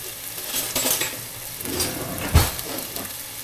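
Onions sizzle in a hot wok while being stir-fried for king prawn chow mein, a steady close hiss with light utensil scrapes and one brief clatter near the middle.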